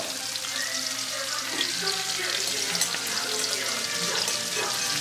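Steak searing in a hot pan on high heat, a steady broadband sizzle and crackle that holds at an even level throughout, close and continuous, with no voices over it.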